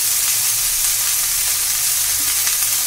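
Cauliflower pieces fry in a pan while being stirred, giving a loud, continuous sizzle with a bright hiss that stays steady and close for the whole short stretch, no voices.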